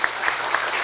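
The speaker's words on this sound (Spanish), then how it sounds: "voy a solicitar un reiterado aplauso para la doctora Inés" Brief burst of audience clapping at an international scientific conference, a short continuous patter of many hands in a hall.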